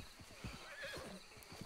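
A horse in Red Dead Redemption 2 whinnies with a rising and falling neigh over steady clip-clop hoofbeats, fairly close, with no talk.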